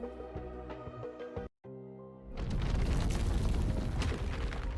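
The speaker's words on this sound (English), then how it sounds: "The sound of explosions rings out." Explosions in the video game Chaos Zero Nightmare as a lab collapses: layered music cuts out to a brief silence, then a loud, sustained rumbling roar of blasts fills the rest.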